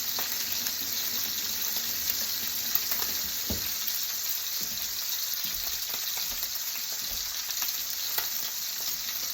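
A brined steak sizzles steadily in a hot frying pan, giving a continuous close hiss and crackle with a few soft knocks, and no voices over it.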